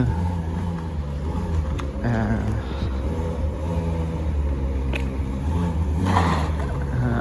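A Ferrari doing a burnout, heard as a loud, sustained engine drone with rising revs and tyre roar over a low rumble, with a few sharp bursts standing out near the middle and end.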